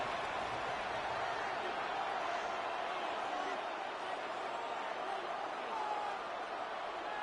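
Steady crowd roar from a Madden 26 football video game stadium, continuous broadband noise sustained throughout without breaks, loud and even as play reaches third down.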